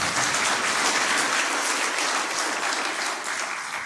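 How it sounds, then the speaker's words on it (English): Loud, dense audience applause fills a hall at the closing of the 4th KCA University Innovation Week & Industry Summit, a continuous clapping roar that fades slightly toward the end, with no one talking over it. "Ladies and gentlemen, a better round of applause."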